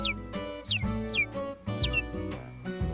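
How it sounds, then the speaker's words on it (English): A baby robin chirps high above in a forest, its short, bright descending calls repeating several times over a steady bed of music. "High above, a baby robin chirps."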